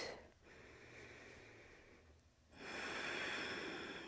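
Deep breathing during an Ashtanga yoga pose: a slow, close breath that swells and fades, then a louder, rushing exhale through the nose near the end, with no speech.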